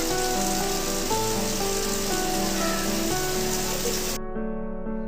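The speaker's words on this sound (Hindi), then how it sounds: "मोगा डिस्ट्रिक्ट में बहुत बारिश हो रही है।" Heavy rain in Moga district hisses on a surface nonstop, with faint tonal hum beneath, until the high hiss cuts away near the end.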